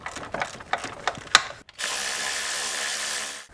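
A series of quick ratcheting clicks, then a power tool whirs steadily and loudly for a couple of seconds before cutting off, loosening bolts during a shift solenoid replacement on a 2004-2007 Chevy Malibu.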